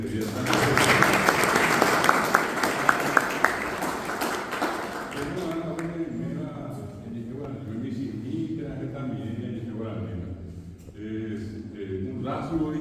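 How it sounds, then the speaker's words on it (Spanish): Audience applause for the Guaraní language at a Guaraní Language Day event, a loud burst of many hands with a few sharp claps that dies away after about five seconds, followed by someone talking. "Quiero pedirle un fuerte aplauso para la lengua guaraní en este día tan especial."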